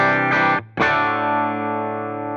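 Guitar played through an AmpliTube Fender Deluxe Reverb amp simulation, set to a clean tone with the reverb turned down. Two chords ring out loud and sustained, with a short break between them, and the second chord decays slowly.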